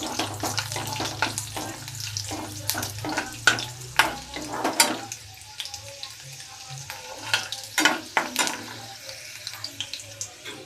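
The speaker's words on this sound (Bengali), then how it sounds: "এর মধ্যে আমি চার পাঁচ ক রসুন দিলাম রসুনটা আমি ভেজে নেব" Four or five garlic cloves fry in a pan, an irregular clatter of stirring and spatula knocks over a steady sizzle that fades partway through, heard up close without speech.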